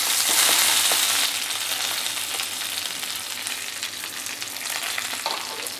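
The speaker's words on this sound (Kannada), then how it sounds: "ಒಂದು ಸ್ವಲ್ಪ ಕರ್ಬೇವಿನ ಸೊಪ್ಪು ಹಾಕಿ ಒಂದು ಅರ್ಧ ನಿಮಿಷ ಕರ್ಬೇವಿನ ಸೊಪ್ಪನ್ನ ಬಾಯಿಸ್ಕೊಂಡು" Curry leaves fry in a hot oil tempering in a pan for moong dal idli, making a loud, continuous crackling sizzle that is strongest at the start and then settles, with occasional stirring scrapes and no talk.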